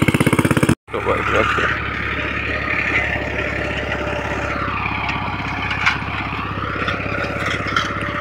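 A Farmtrac 65 EPI tractor pulling an 18-disc harrow through a field, its diesel engine running close and loud with a steady throb that cuts out for an instant near the start, then drones on evenly.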